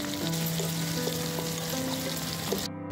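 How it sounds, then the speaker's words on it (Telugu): Mustard seeds, cumin, garlic, dried red chilies and curry leaves fry in hot oil for tamarind chili pickle tempering, a continuous close sizzle with faint crackles and stirring, ending in a sudden cut. "తాలింపులో ఆవాలు, జీలకర్ర, ఎల్లిపాయలు, ఎండుమిర్చి, కరివేపాకు వేసి కలపాలి."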